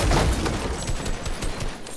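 Gunfire in the Fortnite video game sounds as a loud, dense burst of rapid shots up front that trails into scattered quieter pops and rumble.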